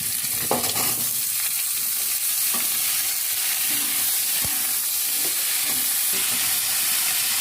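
Banana stem frying in a kadai, a dense continuous sizzle and hiss close up, with scattered clicks and scrapes of stirring and no voices.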